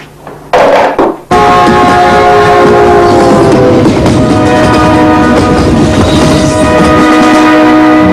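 A train roars past close by, loud and steady, with a sustained horn blast ringing over the rumble and rattle of the cars after a brief burst at the start.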